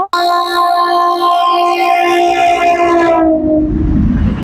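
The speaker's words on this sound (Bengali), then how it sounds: "প্রচুর ট্রেন আসছে ঘন ঘন" A passing train sounds a long, loud, sustained horn blast close by, which fades into the heavy rumble of the train rolling past.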